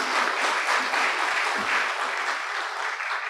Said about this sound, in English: Let's give MVP another warm round of applause